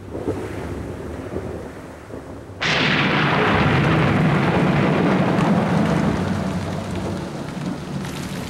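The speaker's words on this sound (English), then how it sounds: "the first of the heavy rains approaches the parched grasslands" Heavy rain sweeps in over parched grasslands in November, a low rumbling hiss that jumps to a loud, dense roar partway through and stays steady to the end, with a thunder-like low rumble beneath.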